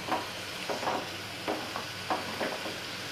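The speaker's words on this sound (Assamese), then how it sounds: "এতিয়া এয়া অকণমান পানী দিছোঁ গেছৰ ফ্লেমটো বঢ়াই দিছোঁ" Curry masala frying in a pan over a raised gas flame after a splash of water, giving a steady low sizzle broken by several soft stirring scrapes at irregular intervals, close and fairly quiet with no talk.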